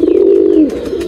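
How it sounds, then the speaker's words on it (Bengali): A local domestic pigeon gives a single close, loud coo, a brief low throaty call with a downward bend, heard on its own. "আর এটা দেশি কবুতর"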